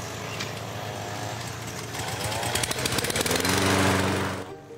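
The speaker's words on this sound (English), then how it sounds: "doing one simple chore, mowing a lawn" A lawn mower engine runs steadily and then rises louder as it works across a lawn, a loud rough motor drone close by with no talk.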